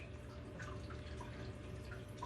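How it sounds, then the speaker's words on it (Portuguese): Water drips steadily into a removable filter-floss box in a marine aquarium sump, a run of soft, close drops over a constant low hum of pumps and flowing water. "A água que vem pelo sexto vidro e cai naquela caixinha de perlão removível"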